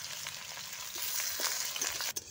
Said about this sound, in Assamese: পিঁয়াজখিনি আমি অলপ ৰঙচুৱা হোৱালৈকে ভাজি ল'ম।